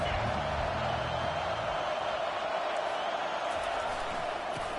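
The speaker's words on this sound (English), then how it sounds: "Decibels rising as the crowd gets behind this defense on third down." Football stadium crowd roaring steadily behind the defense on third down, a dense, sustained wash of noise with no break.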